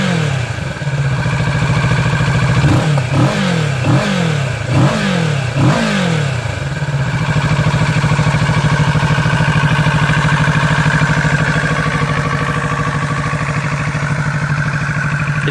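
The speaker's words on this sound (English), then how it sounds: "It's a great little engine, the 67 horsepower parallel twin" A 67-horsepower parallel-twin motorcycle engine with an underslung exhaust idles with a steady, throaty rumble, revved several times in quick succession before settling back to an even idle.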